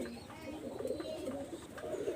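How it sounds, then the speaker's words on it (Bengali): Pure-bloodline pigeons kept for sale coo close by, a low, soft, rolling warble repeating continuously without pause, with no talking. "এখানে দেখেন আরো এক জোড়া কবুতর আমি দেখাচ্ছি"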